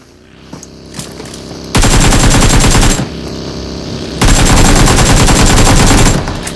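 Bursts of rapid automatic gunfire from a racing-and-shooting video game, two sustained loud volleys of a second or more each, separated by quieter game ambience.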